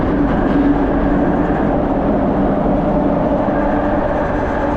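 London Underground train at Canary Wharf station, a loud continuous low rumble and roar of the carriages running on the rails, steady throughout with no voices.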